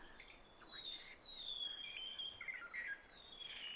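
A recorded bird call played in a native beech forest to lure a small yellow songbird toward a mist net: thin, high chirping phrases repeating steadily over a soft background hiss, moderately faint.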